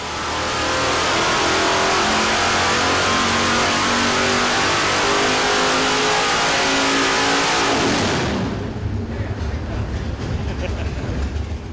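A Dart 440 small block engine converted to Holley HP EFI fuel injection roars loudly at high revs, holding steady for about eight seconds before dropping back to a rumbling idle.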